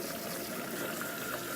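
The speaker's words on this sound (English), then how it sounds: "I'm just gonna use some, warm water from a little vegetable sprayer" Warm water hissing steadily from a small vegetable sprayer into a sink, a continuous soft spray without pauses, close and moderately quiet.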